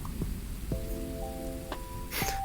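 Rain falls in a VR fishing video game as a soft, steady patter under faint background hiss, with a few brief tonal chimes and a short burst of brighter noise near the end.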